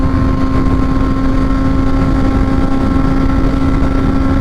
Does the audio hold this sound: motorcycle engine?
yes